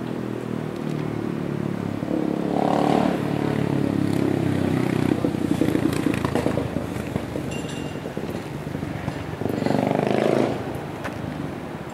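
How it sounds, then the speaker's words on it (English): A motorcycle engine drones loudly nearby, rising and falling as it passes, with a second surge of revving later over steady outdoor background noise near the harbour in Puerto del Rosario, Fuerteventura. "shut up, noisy motorbike"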